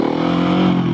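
A Husqvarna 701 or KTM 690 single-cylinder motorcycle engine pulls under light throttle at low speed, giving a loud, close, steady mechanical drone with a firm low rumble through the short moment.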